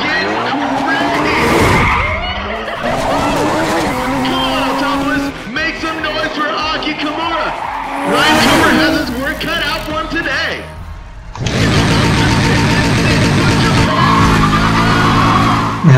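Race cars in Need for Speed ProStreet skid and drift through long tire squeals and revving engines, loud and close. Bursts of screeching rise and fall in waves, with a sustained engine drone in the last few seconds.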